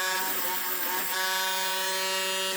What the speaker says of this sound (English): good old trusty Dremel with my bit that I like already in it